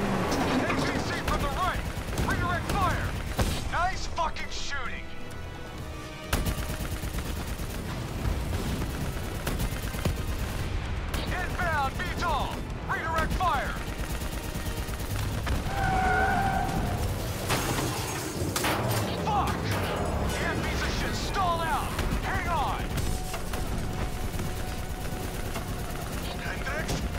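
Gunfire in the video game Call of Duty: Black Ops III comes as repeated bursts of shots and automatic fire amid loud battle noise, with shouting voices throughout.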